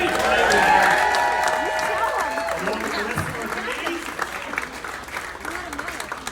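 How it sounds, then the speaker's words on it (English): Applause at a New York charity auction and paddle raise, crowd clapping and some cheering that starts strong and tapers, with someone speaking over it. "how about a round of applause for the Feenies and the Fins,"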